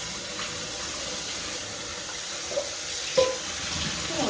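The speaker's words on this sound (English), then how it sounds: "I'm going to run it through and rinse it" Water runs steadily from a kitchen tap into a pot as it is rinsed out, a continuous hiss with a few brief clinks near the end.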